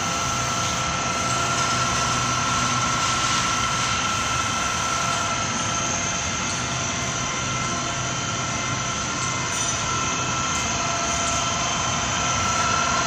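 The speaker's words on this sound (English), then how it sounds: "And that's power feeding there, faster feed rate." A Kao Ming KMR 700 DS radial drill power feeding at 1500 RPM in high range, a steady, loud mechanical whine and hum holding constant throughout with no talk.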